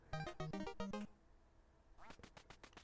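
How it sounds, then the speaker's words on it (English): A cartoon duck in the NES game Duck Hunt gives a quick series of nasal, buzzy quacks, about five in rapid succession, then a second burst of clipped, higher-pitched squawks after a short pause. "if you miss the duck, it's going to fly away"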